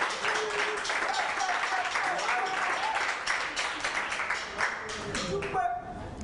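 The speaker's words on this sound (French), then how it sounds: "Applaudissez seulement, on applaudit, applaudissez!" Audience members at a stage event clap together in a sustained, moderately loud round of applause that thins out toward the end.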